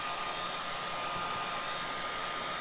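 A hair dryer blows steadily and loudly at close range, drying wet paint on a fabric tea towel, with a constant broadband rush and no voices.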